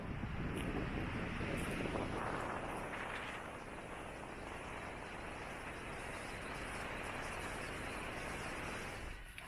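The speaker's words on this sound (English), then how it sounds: "Super windy up here, so I hope you can hear me" Strong mountain wind high in the Bighorn Mountains roars and buffets the microphone continuously, loud and steady throughout with no voices.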